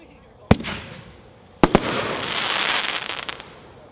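PyroSpec ProGrade single-shot fireworks: a sharp launch thump, then two more close together a second later, followed by a rising crackling hiss of bursts, loud and near.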